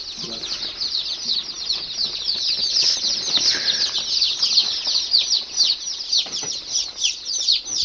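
A flock of desi Sonali chickens, young birds raised in a shed, fills the air with a dense, continuous chorus of high peeping and clucking, close and lively, with some wing fluttering.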